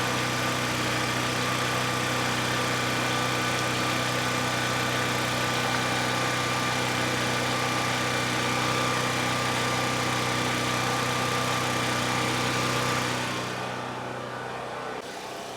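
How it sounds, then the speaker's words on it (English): An engine running on old gas idles steadily with a constant hum, close and fairly loud, and eases down slightly near the end without any clear stumble. "She sounds like she got a little stumble to her, but you know, what do you expect with old gas?"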